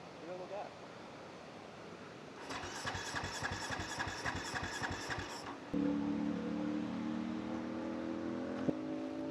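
A supermoto motorcycle engine is cranked outdoors with about three seconds of rapid, rhythmic starter pulses before it catches and settles into a steady, loud idle.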